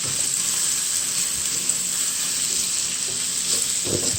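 Scallions and garlic sizzling in a hot pot, a steady, bright frying hiss holding constant throughout, close and loud with faint stirring clinks and no talk.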